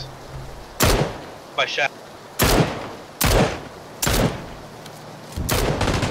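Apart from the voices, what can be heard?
gunfire in PUBG video game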